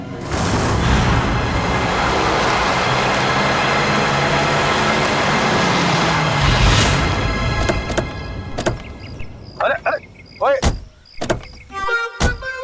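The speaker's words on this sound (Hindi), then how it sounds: "इतना फास्ट गाड़ी चलाता है," A car is driven fast in a TV crime-drama scene: a loud, steady rushing roar dominates for several seconds, then cuts away to sharp clicks and thuds like door and mechanism sounds.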